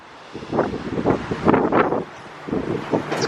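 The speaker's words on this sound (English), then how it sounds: "It's getting pretty windy, so you probably won't be able to hear me very well." Strong wind buffets the microphone on an open cruise ship deck while the vessel sails out of New York City at about 15 knots, producing loud, continuous gusty rumbling that swells and fades in waves.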